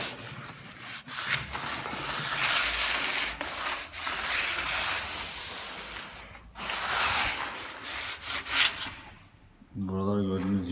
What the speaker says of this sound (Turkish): Şimdi güzel gibi şuraların zımparasını atayım şöyle.